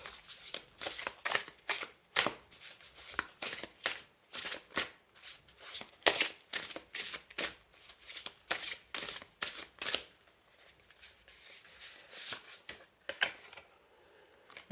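Tarot cards being shuffled by hand, a close series of crisp riffling and flicking bursts in an uneven rhythm, growing sparser and softer toward the end.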